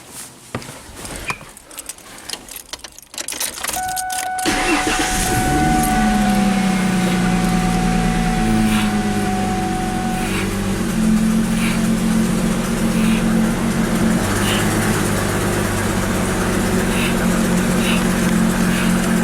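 A 2003 Ford Mustang engine cranks and catches after a few seconds of rustling, then settles into a steady, loud idle that runs on close by.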